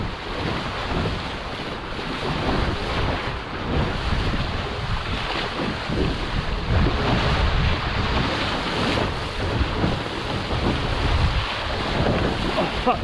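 Gusty wind roars across the microphone while waves rush and splash steadily against a Musto Skiff sailing dinghy underway, loud and continuous.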